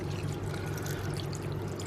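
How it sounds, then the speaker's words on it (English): Pork juices pour over pulled pork in a tub, a brief, continuous close liquid splash and trickle with no talking. "pull the pork in the tub, and then pour the juices back over them"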